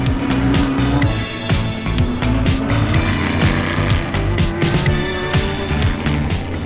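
A classic race car drives the Le Mans 24 Hours circuit at the Le Mans Classic 2023, its engine loud and close with a steady, rising and falling drone and rapid gear-change surges throughout.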